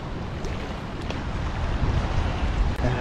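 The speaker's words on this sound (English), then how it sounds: "She's getting a little bit windier now." Wind gusts across a microphone beside the Murrumbidgee River during a fishing trip, a loud continuous low rumble and buffeting that builds slightly, with no talk.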